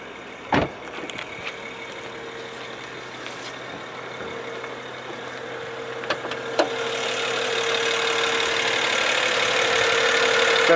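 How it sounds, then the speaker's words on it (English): A car engine idles with a steady low hum that swells slightly louder toward the end, with a couple of small knocks near the start. "Let's have a listen to the engine."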